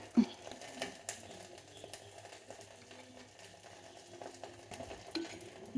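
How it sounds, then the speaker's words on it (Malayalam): A tamarind, turmeric and salt mixture with hot green chilies is stirred in soft, low scraping and shuffling sounds, close and quiet, with a few faint clicks and no talking. "ഇതെല്ലാം കൂടെ ഒന്ന് ഇളക്കാൻ കൈ കൊണ്ടാണ് ഇളക്കേണ്ടിയത് പക്ഷെ എൻ്റെ കൈ പോകൈ നല്ല എരിവുള്ള പച്ചമുളക് കേട്ടോ അതുകൊണ്ട് ഞാൻ ഇങ്ങനെ അങ്ങോട്ട് ഇളക്കുകയാണ്"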